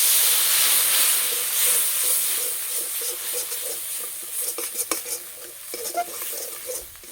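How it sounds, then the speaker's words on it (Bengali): Ground turmeric, chilli, coriander and cumin sautéing with a little water in a pan, a steady close hiss and sizzle with scattered scraping stir clicks from a spoon, no talking. "অল্প একটু জল দিয়ে মশলা কষিয়ে নেব"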